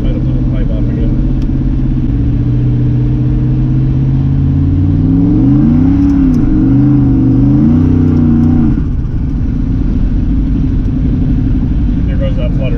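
A turbocharged LS engine revs up and climbs in pitch, rumbling loudly and close, with turbo flutter as the revs fall back to a steady idle.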